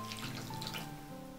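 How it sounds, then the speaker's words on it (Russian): Water is poured into a filling mixture made with melted butter, giving a faint, brief trickling splash. "Воды добавляю еще."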